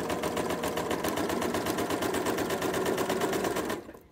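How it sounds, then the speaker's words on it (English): Sewing machine with a quarter inch foot stitching quilt pieces for a butterfly quilt, a steady fast mechanical whir held at close range, stopping abruptly at the end. "I'm over here at my machine and I've got my quarter inch foot in."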